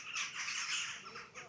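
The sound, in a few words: crows squawking near a church in Wageningen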